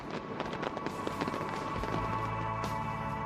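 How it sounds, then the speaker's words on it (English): A professional fireworks show fires shells over high walls in a rapid computer-timed barrage, with dense continuous crackling and repeated bursts, plus booming low thuds near the end. "a non-stop display that features a rapid barrage of shells set off by computer"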